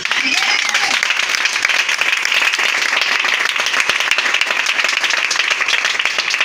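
A church congregation applauds in a dense, steady wash of clapping that fills the room without a break, mixed with voices.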